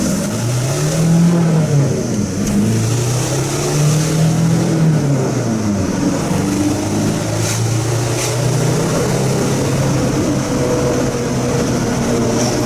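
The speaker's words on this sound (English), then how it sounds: "With the TDI engine, the Vanagon is surprisingly quick." A Volkswagen Vanagon fitted with a TDI diesel engine accelerates up close, its steady engine drone rising and falling in pitch through the gears, loud and continuous with no voices.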